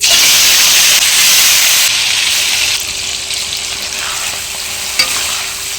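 Fish fat sizzles and hisses steadily in hot white cooking oil for a Bengali fish tel chorchori, a loud, close, continuous frying roar that eases slightly partway through.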